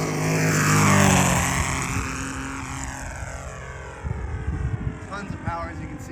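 A Saito FG90R3 gas engine powering a large RC Westland Lysander model plane at full throttle, a loud buzzing propeller drone sweeping in pitch as the aircraft passes near, then fading as it pulls away.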